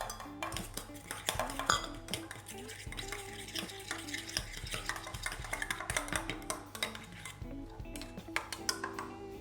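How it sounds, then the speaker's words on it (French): Gelatin being stirred into water with a fork, giving a busy run of clinks and scrapes against a bowl, steady and close for the whole stretch, with a faint hum and some kitchen clatter underneath. "vous versez votre gélatine dans votre eau et vous mélangez avec une fourchette"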